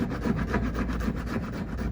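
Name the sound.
rasp filing kayak keel patch back and forth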